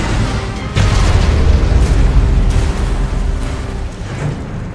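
A nuclear weapon detonates in the war game Cabals War Games: a sudden, heavy boom lands after a brief quiet moment, then rolls into a long, loud rumbling roar that slowly fades, with no voices.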